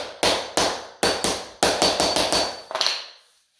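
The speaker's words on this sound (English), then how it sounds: "Time to hammer. It's kind of loud." Hammer blows during vinyl flooring installation in an echoey room with freshly painted walls: about a dozen sharp, loud strikes in uneven bursts, each ringing briefly, ending with a quick cluster of taps and a fading decay.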